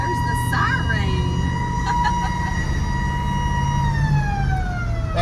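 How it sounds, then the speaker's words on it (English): A patrol car siren wails steadily as the car drives around Mount Airy, North Carolina. The rising and falling tone sounds over engine and road rumble while people talk inside the car. "Oh, there's the siren."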